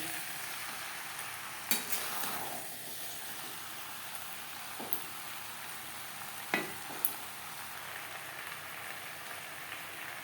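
Potatoes and pointed gourd stirred with spices in a pan for potol chingri, heard as a soft, faint, even sizzle with a few sharp scrapes and clinks of a spoon; no talking.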